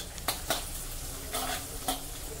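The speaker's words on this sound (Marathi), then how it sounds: "लसूण आणि मिरची परतून घेत असतानाच त्यामध्ये मी हिंग घालत आहे" Garlic and green chillies sauté in hot oil with a spoonful of asafoetida over medium heat, giving a steady close sizzle broken by a few sharp scrapes of stirring.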